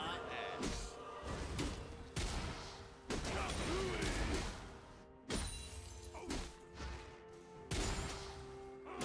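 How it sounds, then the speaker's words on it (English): Turret destruction sequence in the League of Legends video game: a series of heavy slamming, crashing impacts with explosive bursts and an announcer-style voice, loud and dense, repeating across the span amid layered game effects. "Your turret has been destroyed."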